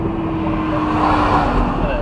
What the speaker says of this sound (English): there's a car overtaking us